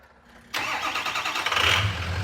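A diesel truck engine, its fuel delivery system freshly tuned, cranks and catches, then settles into a loud, steady rumbling idle close by. No talking.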